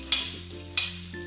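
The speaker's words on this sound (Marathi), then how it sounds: "हे तव्यावरच भाजून घेते, कारण की लोखंडाचा तवा असते" Fresh pigeon pea seeds roast on an iron tawa, with two short bright scraping stirs over a low, quiet sizzle, heard close and without talk.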